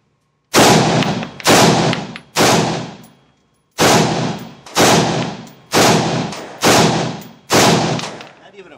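Seven loud, sharp gunshots ring out at an indoor shooting range from a pistol fitted with an Olight weapon light, spaced roughly a second apart with a short pause after the third, each followed by a brief echoing decay.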